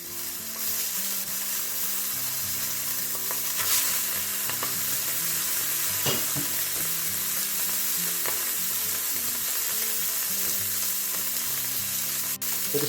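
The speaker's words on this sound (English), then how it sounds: "Okay, now we'll just carefully go in with the scallops." Scallops sizzle in hot oil in a frying pan, a loud, dense and continuous crackle with small pops throughout, heard close up and with no speech.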